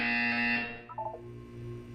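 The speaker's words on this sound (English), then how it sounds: "When you hear the buzzer, look down at the floor." A harsh electronic buzzer from the video game Portal 2 blares loud and steady for about half a second, then cuts off, followed by a few short warbling blips over a low hum.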